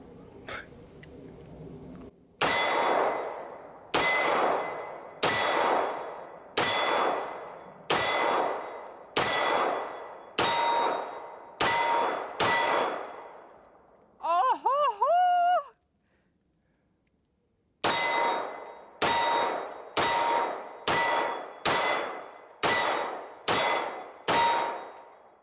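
Shots from a stainless Kimber 2K11 pistol ring off a steel target outdoors, a series of sharp loud clangs in quick steady succession, with a brief mechanical pause midway before another rapid string of ringing hits.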